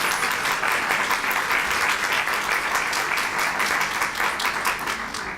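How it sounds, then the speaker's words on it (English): An audience at a Women's History Month celebration applauds, a full, even roar of clapping hands sustained across several seconds before tapering slightly at the end. "So give her a round of applause."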